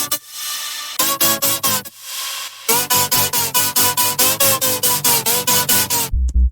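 Layered future bass synths built in Ableton, with saw waves, square waves and a lead stacked together, play loud chopped chords in a steady pumping rhythm after a sustained swell, then cut out abruptly at the end.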